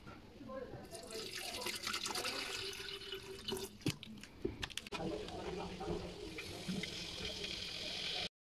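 Water pours into a kettle or pot for boiling roselle petals, a splashing, trickling fill with a few sharp clinks, while a voice talks alongside.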